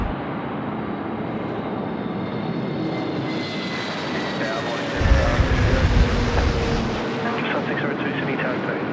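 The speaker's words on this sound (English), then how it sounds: "Jetstar 500 just coming in over the runway 25 threshold now." A Jetstar airliner comes in to land over the runway 25 threshold at Sydney Airport on a windy day, its broad engine roar steady and close with a louder low rumble swelling midway, while talk carries on over it.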